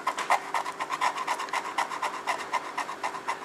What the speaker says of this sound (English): Grab our screwdriver, and we'll just take off that surface there.